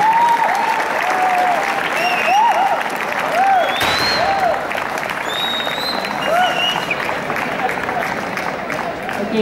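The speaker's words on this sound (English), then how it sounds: "Guys, please give them a round of applause." A hall audience at a prize ceremony for college event winners claps in loud, sustained applause, with a voice talking over it and a few cheers.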